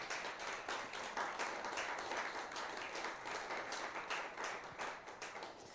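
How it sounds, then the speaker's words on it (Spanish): Church congregation clapping together during a worship service, a steady rhythmic applause from many hands at moderate volume, with no talking over it. "Aplauda la presencia del Señor."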